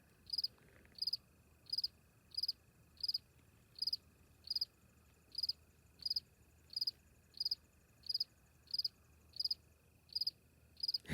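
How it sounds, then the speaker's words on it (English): Crickets chirp in a steady, evenly spaced rhythm of short high trills against a quiet night background in New Brunswick, Canada. "guess you guys can hear the crickets well, eh?"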